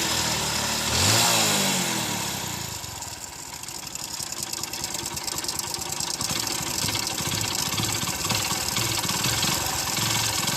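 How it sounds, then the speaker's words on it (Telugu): Motorcycle with a badly worn engine, revved briefly at the start then settling into a steady, rattling, uneven idle close by, loud and continuous with no talking. "బండి ఇంజన్ పోతే మనకి ఈ విధంగా సౌండ్ అయితే వస్తుంది అనమాట."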